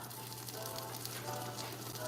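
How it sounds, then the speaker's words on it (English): Steady, quiet sizzling of a burrito cooking on a hot griddle, a continuous hiss with a low hum underneath and no talking. "Y'all hear the sizzling sound? That means it's griddling."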